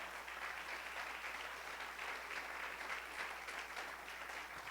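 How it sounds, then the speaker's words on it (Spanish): A church congregation claps steadily and loudly for several seconds, a dense continuous wash of applause with no speech over it. "Dale una ofrenda de palmas al Rey."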